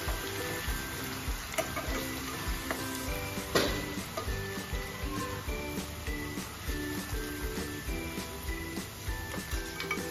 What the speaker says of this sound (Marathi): अद्रक लसूण पेस्ट, चांगल्या प्रकारे गोल्डन करून घेणार आहोत।